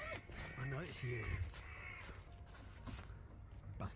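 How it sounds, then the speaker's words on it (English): A crow caws close by at a campsite near a tent, harsh repeated calls sounding over people talking. "Go away, bird."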